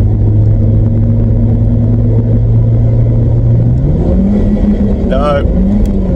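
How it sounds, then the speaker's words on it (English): A car with an automatic gearbox that will not shift up revs hard and holds a loud, steady engine drone, then the pitch climbs as revs rise further, with a voice talking over it briefly near the end. "Will it change up to the next gear by itself about revving its nuts off?"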